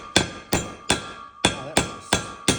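A cap is tapped into an unsanded hole with a small hammer: seven sharp, evenly spaced knocks, close and clear, with no talking.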